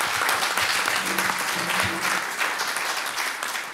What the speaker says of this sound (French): Merci beaucoup Véronique, merci de l'applaudir